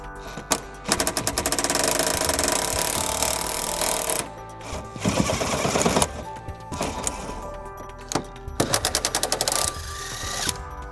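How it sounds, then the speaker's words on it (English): Power tool driving an 18mm socket to remove frame rail bolts on a 2004 Jeep Grand Cherokee, loud close rattling bursts of rapid impacts with short pauses between them, no talking. "we'll go ahead and start by removing these two bolts on the driver's side frame rail."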